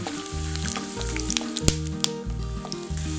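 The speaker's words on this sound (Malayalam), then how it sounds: "എണ്ണ ചൂടായി കഴിയുമ്പോൾ 2 ടേബിൾ സ്പൂൺ കപ്പലണ്ടി. ഇത് എണ്ണയിൽ നന്നായിട്ടൊന്ന് റോസ്റ്റ് ചെയ്തെടുക്കണം." Peanuts roasting in hot coconut oil in a pan give a steady, close crackling sizzle, with a sharp tap near the middle and a tonal background running through, and no talk.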